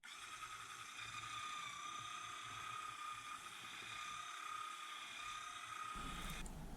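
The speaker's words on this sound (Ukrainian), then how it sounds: "І далі разом з вершками вже проб'ю маскарпоне" A steady, high-pitched electric mixer whips mascarpone and cream at close range, its motor tone holding even throughout, with a brief clatter near the end.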